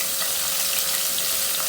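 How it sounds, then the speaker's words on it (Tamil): Cumin seeds splutter and crackle in hot oil, a dense continuous sizzle, close and loud, with no voices over it. "இப்போ நல்லா பொரிஞ்ச உடனே அந்த சீரகம் பொரிஞ்ச உடனே"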